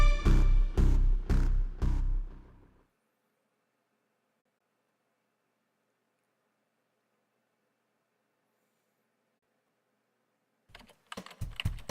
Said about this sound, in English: there's an intermediate sound of the keyboard being typed on